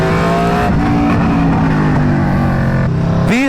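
An Aprilia RSV4 motorcycle with a 520 chain and sprocket conversion and a 43-tooth rear sprocket, held in first gear through a slow turn. The engine drones at a steady low pitch, then revs sharply near the end.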